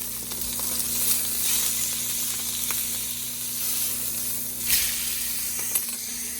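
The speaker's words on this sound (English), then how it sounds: "Now I'm going to put the steak in there and braise it on either side for" A steak sears in a hot pan with a steady, loud sizzle and hiss that runs throughout, broken by a couple of brief scraping clinks.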